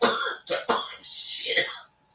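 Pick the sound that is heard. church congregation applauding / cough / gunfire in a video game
cough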